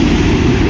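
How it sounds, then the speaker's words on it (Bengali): Vande Bharat express train pulling into Berhampur station, a steady loud low rumble and rolling rail noise filling the short moment, with no voices. "শ্বেত শুভ্র বন্দে ভারত আমাদের ঢুকছে বেরহামপুরে।"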